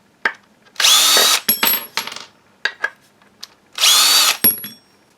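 Bosch GSB 18V-28 cordless combi drill in screw mode at high speed, clutch set to the middle, driving a screw: two loud sustained motor whines, each about half a second to a second, followed by clicks and clatter.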